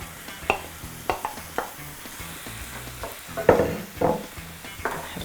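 Tomatoes fry in a pan for butter chicken as a spoon stirs them, giving a soft sizzle with repeated scraping strokes and clinks at an irregular pace, close by and without talk.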